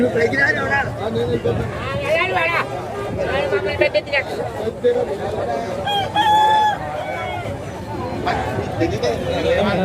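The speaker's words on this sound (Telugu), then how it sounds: "కోళ్ళ మార్కెట్ కూడా చాలా పెద్దది" Several roosters crow over a noisy crowd, their calls rising now and then above steady chatter and clucking at a busy chicken market in Tallapalem.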